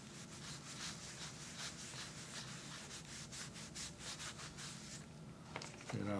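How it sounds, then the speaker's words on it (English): A rag rubs dye into wood in circles, making a steady, close scrubbing swish with a regular rhythmic pulse that continues throughout, with a slight bump near the end and no speech. "I will take the rag and I will rub it in a circular motion."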